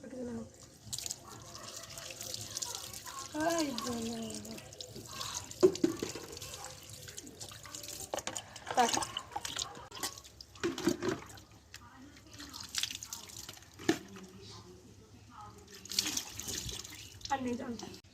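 Water splashes and drips as it is poured over a child being bathed, in irregular bursts, with voices talking throughout.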